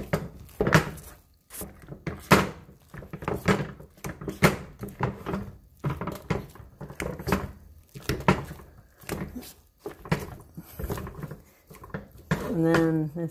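A spoon scrapes and knocks through mashed potatoes in a pot in an irregular run of close clatters and scrapes, with a voice speaking between them.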